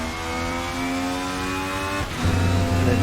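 A race car engine in the video game RaceRoom Racing Experience revs hard and close with a whining, rising tone, then drops briefly into a deeper, louder roar as a gear changes, with no talking.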